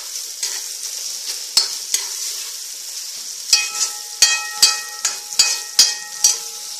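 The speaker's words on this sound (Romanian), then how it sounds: "Și amestecăm." Sliced carrot rounds and onion are stirred in a frying pan, a quiet sizzle punctuated by about a dozen sharp spatula scrapes and knocks that come in quick bursts, close and clear.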